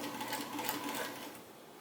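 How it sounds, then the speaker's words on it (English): A sewing machine stitches across the top of an invisible zipper in a continuous rapid whir, close and alone, easing off slightly toward the end. "And I'm going to sew across the top."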